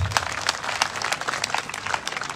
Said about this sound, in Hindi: हम चाहेंगे कि आप उनको तालियों के साथ उनका अभिनंदन करें।